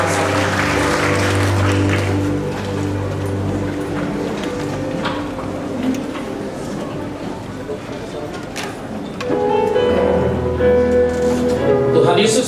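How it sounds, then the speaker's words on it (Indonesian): Church congregation applauding at a Christmas service, a steady wash of clapping that runs throughout and swells louder near the end, with organ or keyboard chords sustained underneath and voices mixed in. "Berikan tepuk tangan bagi Tuhan"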